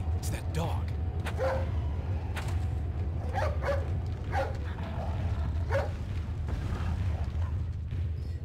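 A dog barks and yips in Resident Evil 4 gameplay, repeated sharp barks over a dense rumbling game soundtrack with explosions, while a person talks throughout.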